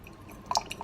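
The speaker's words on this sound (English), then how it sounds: "It pulls that fresh water up and heats it all at the same time, and then, as you can see, it starts to brew." A Hamilton Beach Scoop coffee maker brewing gives faint, sparse drips and small liquid plinks over a quiet background hiss.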